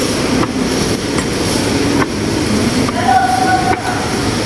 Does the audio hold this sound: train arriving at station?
yes